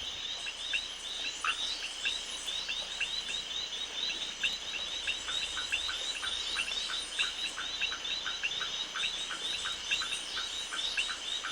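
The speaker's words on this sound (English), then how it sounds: "In this pretzel of frogs, it's hard to know where one frog ends and another begins." A dense chorus of many frogs croaking together in a mating mass, continuous overlapping calls repeating steadily throughout, fairly loud and close with no voices.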